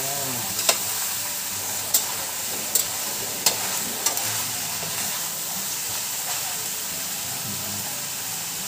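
Lechon kawali, pork pieces deep-frying in a pan, crackles with a steady bubbling sizzle. Sharp pops of spitting oil break through a few times, and there is no talk.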